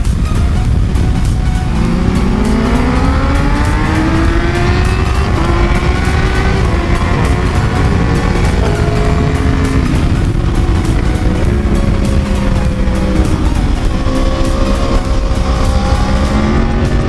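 Kawasaki Ninja 300 motorcycle lapping a race track while warming its tyres, its engine droning loud and steady throughout as the pitch climbs and falls through repeated gear changes and throttle sweeps.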